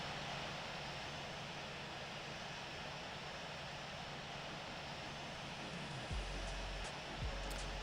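A321neo airliner engines spooling on the takeoff roll in the flight simulator Infinite Flight, a steady broadband roar held at constant level, with a couple of faint low thumps near the end.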